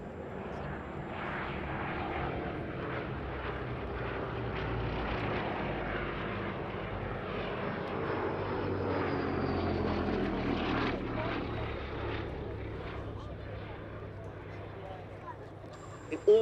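A short-nosed Bristol Blenheim 1F fighter flies at the Duxford Battle of Britain airshow, its piston engines giving a steady propeller drone that swells toward the middle while a commentator talks over it.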